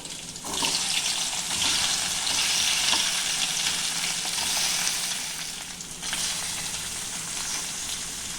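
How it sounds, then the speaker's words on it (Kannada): Garlic frying in a pan for a potato dish gives a loud, steady, hissing sizzle that fills the whole clip, briefly dipping once before carrying on. "ಬೆಳ್ಳುಳ್ಳಿ ಹಾಕ್ತೇನೆ ಇದಿಷ್ಟು ಹುರಿದ್ರೆ ಸಾಕು"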